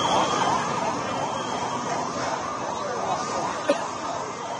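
An ambulance siren wails at the site of an Air India plane crash in Ahmedabad, sounding continuously amid dense crowd and traffic noise, with rising and falling tones partly masked by the surrounding commotion.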